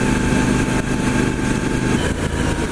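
A 2017 Triumph Street Scrambler motorcycle cruising at about 60 mph gives a loud, steady engine drone with a dense low rumble, continuous throughout with no voices.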